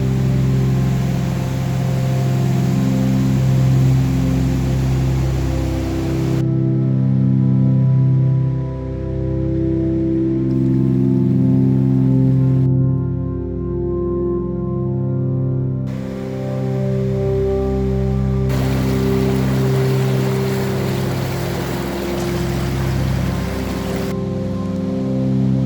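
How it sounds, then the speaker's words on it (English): Rushing water of an 80 ft waterfall cascade on the Towab Trail, a steady, loud, continuous roar that fills the whole stretch with no voices. "I'm gonna miss the sound of all this rushing water."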